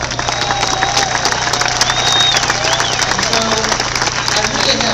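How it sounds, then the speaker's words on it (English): A Tea Party rally audience in Charleston breaks into steady applause, dense clapping filling the room for about five seconds, with a faint voice underneath. "Would you give yourselves a round of applause on that front as well?"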